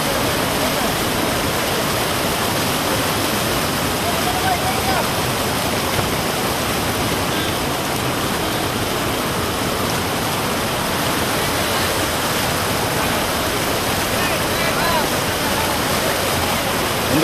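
Rainwater rushes over a road during heavy rain in Gubbi taluk, a dense, loud, unbroken roar of flowing water that fills the whole stretch without pause.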